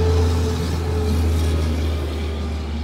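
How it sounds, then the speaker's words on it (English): Big truck passing a parked Honda Element camper, a loud steady low engine drone and road rumble, close by and fading only slightly toward the end, with no one speaking. "Here comes a big old truck."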